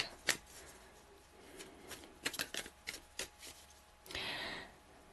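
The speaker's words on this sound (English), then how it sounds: "I'm just going to pull a couple more cards" Tarot cards being shuffled during a tarot reading, a quiet series of close, crisp riffling flicks and soft slaps in irregular bursts, ending with a longer riffle, no talking.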